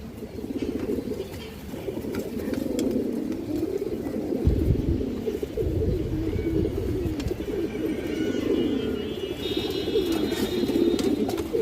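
Pigeons cooing in a loft of pure-bred pairs, a steady layered murmur of low coos and shuffling close by, continuous throughout with some wing and movement noise.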